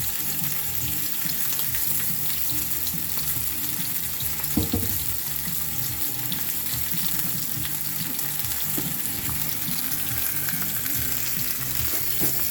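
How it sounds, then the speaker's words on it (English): Meat sizzles steadily in olive oil in a pan, with chopped onion nearby, a continuous close crackling hiss with occasional stirring scrapes and no talk. "Fry it up, fry it up."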